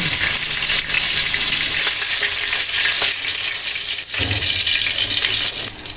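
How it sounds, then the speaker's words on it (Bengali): Pieces of grass carp fry in oil in a pan, a loud continuous close sizzle that rises and falls slightly, with a brief clatter near the middle. "তো মাছগুলো ভেজে নিচ্ছি"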